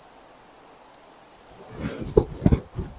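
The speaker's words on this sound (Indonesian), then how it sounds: "banyak jangkrik gua di sini teman-teman" Cave crickets inside a cave in a river palace in East Java give a continuous, thin, high-pitched chirring drone, with a few soft knocks and shuffling sounds near the end.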